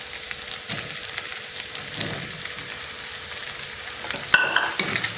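Steady soft sizzle of mushrooms with ginger garlic paste being sautéed in a pan, faint continuous frying hiss with occasional stirring scrapes and a louder clatter near the end.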